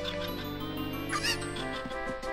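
Cucco chickens from The Legend of Zelda: Ocarina of Time cluck and squawk in short, faint bursts over quiet background game music at Lon Lon Ranch.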